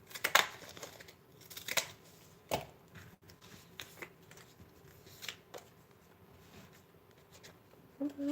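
Scissors snip through paper in short, sharp bursts, a handful of cuts spaced irregularly, close and fairly quiet.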